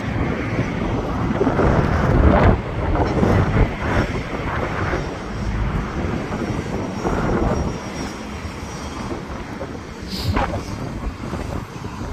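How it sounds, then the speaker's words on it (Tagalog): Strong wind buffets the microphone on a fishing outing, with a roaring, gusting rumble that swells and eases over several seconds, heavy in the low end and loud throughout. "Ang lakas ng hangin guys."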